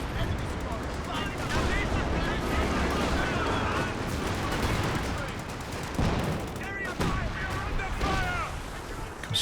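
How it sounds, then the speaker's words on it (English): Artillery shells from a concentration barrage crash down in a Company of Heroes 2 battle, a dense, continuous roll of overlapping booms and gunfire-like blasts under steady battle noise, with a voice talking over it. "Another concentration barrage coming in."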